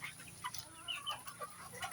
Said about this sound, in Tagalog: may bagong pisa na naman tayo rito sa ating inahin rito